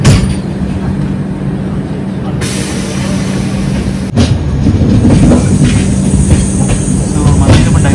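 A train diverts from Krishnagiri junction onto the Guntur line, rumbling loudly and steadily with wheels clattering over the points and a brief sharp jolt partway through.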